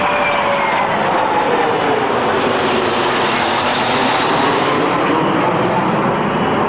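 A Vickers VC-10 jet flies past at an airshow, a loud sustained roar with a falling whine as it passes, and a commentator's voice runs over it.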